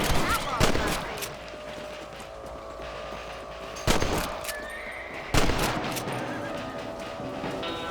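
Gunshots fired at rabbits in the Red Dead Redemption video game, three loud sharp reports spaced a few seconds apart with ringing tails, over a constant game ambience and faint steady tones.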